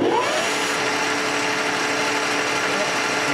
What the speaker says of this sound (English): Start the spindle.